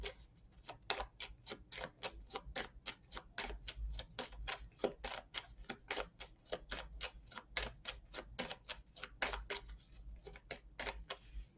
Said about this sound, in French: ce que je peux faire là maintenant, c'est poser une carte ici pour avoir une indication supplémentaire